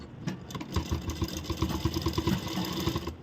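A sewing machine stitches the bottom hem of a blouse in a quick, even run of close mechanical needle thumps, moderately quiet and without talk.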